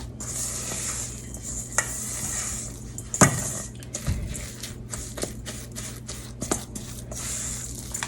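Cookie crumbs and butter pressed into a tart pan for an Oreo chocolate tart, giving soft crumbly scrapes, light taps and brief rustles under a steady low background hum, with no talk.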